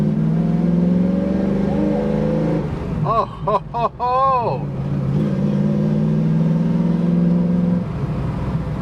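A Ford Mustang's engine drones loudly and steadily nearby, with a deep, rich rumble that holds through the clip while a man exclaims over it partway through.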